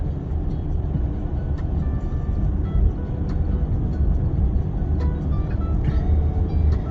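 Waymo driverless car moving along a road toward airport traffic, a steady low rumble of tires and road noise with faint ticking, continuous and fairly loud from inside the cabin.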